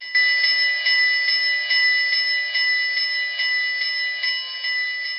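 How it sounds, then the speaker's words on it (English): Steady, evenly spaced clanging of the bell on a BLI Southern Pacific Daylight GS4 model steam locomotive, loud and close with a bright metallic ring, repeating roughly twice a second with no talking. "so we did the startup, and so here is the bell"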